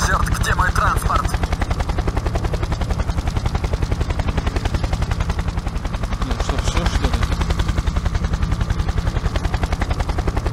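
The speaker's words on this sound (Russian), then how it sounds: "Она летит на вертолете." Helicopter in the video game Project I.G.I., a loud, steady rapid rotor chop throughout, with brief gunfire-like bursts mixed in and no talk.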